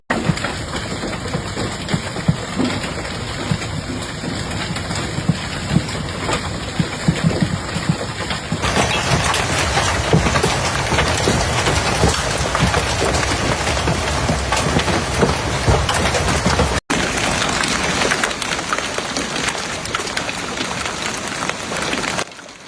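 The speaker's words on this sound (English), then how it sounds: "sightings of large hail falling in some areas" Hail and heavy rain pound down in a strong Nebraska storm, a steady dense roar of impacts with wind, loud and continuous throughout, briefly cut off near the end before resuming.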